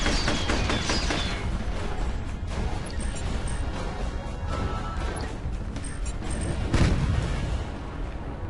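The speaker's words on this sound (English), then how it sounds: "Very effective use of the napalm strike there." Napalm strike in the war video game Field Commander: a dense, continuous fiery roar with crashing, crackling bursts that swell again near the end, loud and sustained throughout with no talk.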